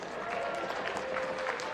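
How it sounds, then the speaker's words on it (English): Crowd of parents applauding in a gym at a high school volleyball all-star event, a continuous moderate patter of clapping at some distance with tonal hum and faint voices mixed in. "Give yourself a round of applause"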